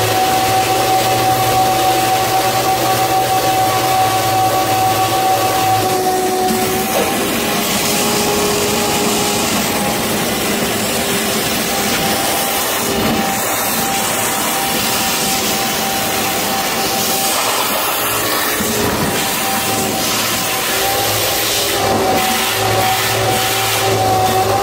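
Shop vac fitted with a homemade DIY filter sucking liquid out of a bucket, a loud steady motor whine running continuously with shifting gurgling and slurping tones as the load changes.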